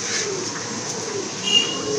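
A red checker Damachi male pigeon coos softly against a steady hissing background, the low rolling calls faint and continuous with a brief brighter blip midway.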